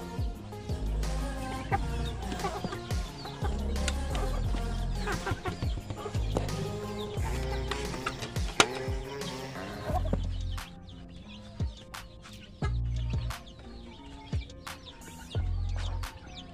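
Bangkok chickens cluck and squawk steadily while pecking at unhusked rice grain mixed with bran, several birds close by with overlapping calls and a few louder sharp cries.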